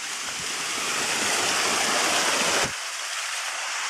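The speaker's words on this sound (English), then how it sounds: "And the big waterfall is down there." A big mountain waterfall on a hiking path near Cuenca, Ecuador, heard as a loud, continuous rushing roar of falling water that drops away abruptly to a softer hiss near the end.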